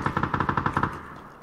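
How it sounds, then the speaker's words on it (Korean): Automatic gunfire in the battle-royale game PUBG sounds as a rapid burst of about ten evenly spaced shots, loud and close, then a fading tail. "총소리 나는데 이쪽 확인하면 돼."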